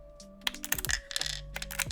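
Rapid clacky typing on a mechanical keyboard with ceramic keycaps, crisp bright key strikes in an uneven run, close up with a faint background hum.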